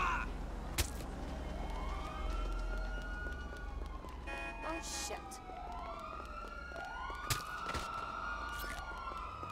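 A police car siren wails repeatedly in GTA V Online, its rising and falling tones sweeping over traffic noise at moderate distance, with voices talking over it.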